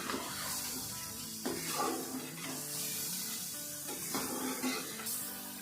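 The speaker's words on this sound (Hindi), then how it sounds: "अब मिक्स करेंगे और दोबारा से अच्छे से ये भून लेंगे" Spices and mutton frying in a karahi with roasted crushed cumin, a steady loud sizzle with stirring scrapes throughout, no talking.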